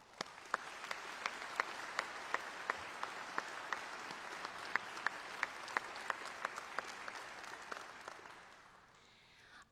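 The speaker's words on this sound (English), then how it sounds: "all please join me in applause to recognize the accomplishments and dedication of Mr. Israel" Audience at a university pharmacy doctoral hooding ceremony applauding, a moderate, steady patter of clapping with a few sharper individual claps standing out, fading away near the end.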